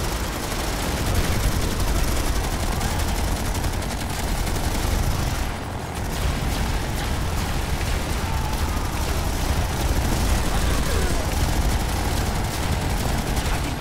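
Sustained suppressive gunfire from a team-based military video game pours out as a dense, continuous barrage of shots and blasts, loud and unbroken for the whole stretch, with no voices.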